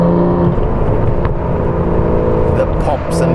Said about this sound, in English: The exhaust has gone slightly louder. Oh, the sound on this DBS is so sweet.